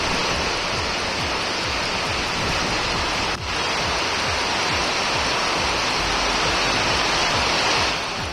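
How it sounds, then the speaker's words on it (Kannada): Heavy rain mixed with hail pours down around Giri Nagar in Bengaluru, a steady dense roar of falling water that fills the whole scene without pause, with no voices. "ಗಿರಿನಗರ ಸುತ್ತಮುತ್ತ ಆಲಿಕಲ್ಲು ಸಹಿತ ಭಾರೀ ಮಳೆಯಾಗಿದೆ."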